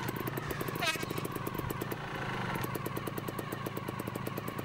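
A trials motorcycle engine chatters during a competitive ride, a fast rhythmic putter with revving blips, heard from a moderate distance at low level.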